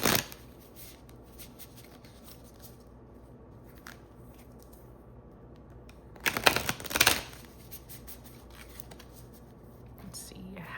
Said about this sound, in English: So we are going to pull a few self-care cards from